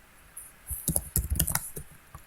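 Someone types HTML code on a computer keyboard in short, irregular bursts of close, crisp key clicks with brief pauses between them.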